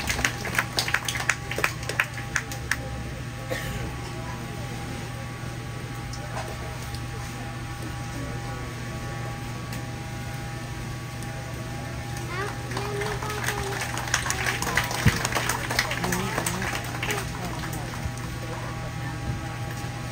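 Audience applause at a daytime expo ceremony in Micronesia, with a steady scatter of claps that swells into a denser burst midway, under a voice over a PA system and a constant electrical hum.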